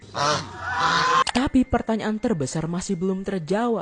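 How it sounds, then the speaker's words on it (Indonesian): A goose gives a short, raspy series of honks, which is then followed by someone speaking. "suara dari angsa purba tadi ya sama dengan suara angsa di zaman sekarang"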